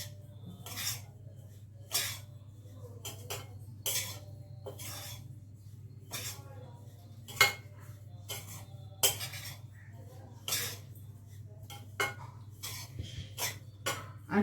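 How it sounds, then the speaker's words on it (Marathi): A spoon mixes powdered sugar into a grated coconut filling for karanji in a bowl, making irregular scraping and tapping strokes, close and fairly faint over a low hum. "त्यानंतर मी या सारणला मिक्स करून घेणार आहे."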